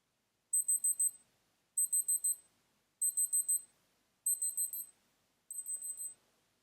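A Casio AE-1300WH digital watch's countdown timer alarm sounds five evenly spaced bursts of rapid, high-pitched electronic beeps, each burst a quick run of chirps, clear and close with nothing else audible.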